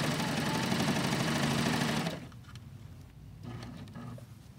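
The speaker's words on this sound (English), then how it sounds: "So now you can just stitch this down and just sew all the way down here." A serger sewing machine stitches piping onto fabric in a steady, loud run of motor hum and rapid needle chatter for about two seconds, then stops, leaving faint handling noises.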